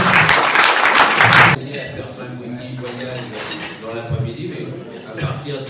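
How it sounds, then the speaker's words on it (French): An audience at Puy du Fou claps loudly for a second and a half, then the applause cuts off and voices talk over faint background noise. "On les applaudit très très fort."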